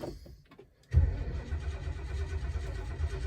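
A 1972 Lincoln Mark IV big V8 with a new battery cranks: after a few faint clicks, the starter engages with a loud, steady low churning that continues without the engine catching.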